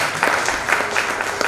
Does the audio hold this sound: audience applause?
yes